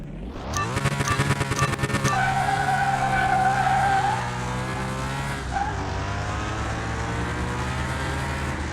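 Ford Mustang Saleen racing in the Car Mechanic video game: a loud, steady engine roar with rising revs and a sustained tire squeal midway, continuous throughout with no talk.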